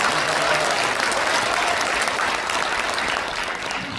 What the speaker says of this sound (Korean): 우리 김영록 지사님께 크게 박수 한번 보내주시기 바랍니다